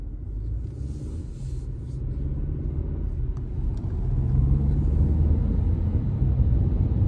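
Steady low rumble of a car driving straight ahead at 50 km/h on the Modlin track during a safe-driving course, a constant engine and road drone that grows slightly louder midway, with no talk.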